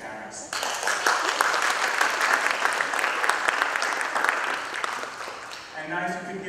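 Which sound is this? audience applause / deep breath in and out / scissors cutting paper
audience applause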